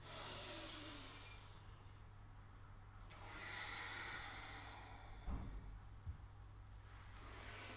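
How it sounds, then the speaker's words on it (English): Slow, deep breaths during a gentle morning yoga session, with a long soft airy inhale and exhale, a few faint sniffs near the middle, and no talking. "Big breaths"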